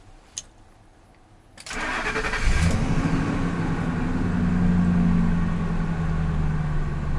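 An old high-mileage gasoline pickup truck cranks and catches after a brief quiet stretch with a small click, then settles into a loud, steady rumbling idle that carries on close by.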